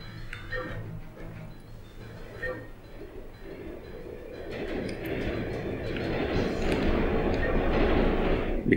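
Moving train in the video game Turok 3, a rumbling roar that grows louder and denser over several seconds with scattered clicking, beneath a person talking at the start.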